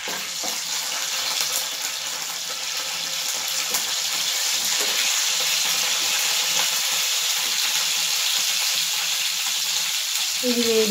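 Seasoning spices fry in oil in a pan for a taro-root curry, making a continuous, close hiss and sizzle that grows slightly louder, with a brief clink near the end.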